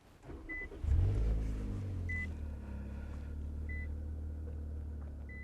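A 2021 Infiniti Q60 Red Sport 400 AWD engine fires via push-button start with a sudden low roar settling into a steady idle rumble, while a soft chime beeps at regular intervals.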